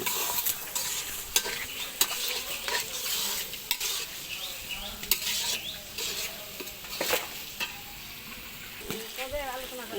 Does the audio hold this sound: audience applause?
no